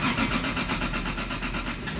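A Toyota Supra with a 2JZ-GTE engine, freshly repaired with a new front main seal and timing belt, running steadily and fairly loud with a smooth mid-pitched hum after starting, no voices over it.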